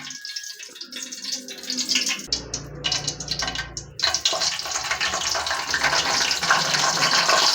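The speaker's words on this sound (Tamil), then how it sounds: "பிரியாணி ரெசிபி பண்ணுறதுக்கு தேவையான அளவு எண்ணெய் ஊற்ற போகிறோம்" Cooking oil poured into a pot for chicken biryani, a steady liquid stream that grows fuller and louder as the pour continues, with no talking.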